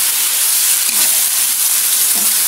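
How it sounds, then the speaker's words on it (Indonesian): Cucumber and spring onion stir-fried in a hot wok with oyster sauce, a loud continuous sizzling hiss with faint scraping, no talk. "Yang terakhir ditambah daun bawang. Kita oseng lagi"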